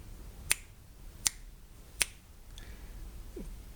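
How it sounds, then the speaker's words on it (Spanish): Three crisp, sharp finger snaps ring out at even intervals, close and distinct against a quiet room background, followed by faint rustling. "el chasquido de mis dedos tiene una cantidad de hertz"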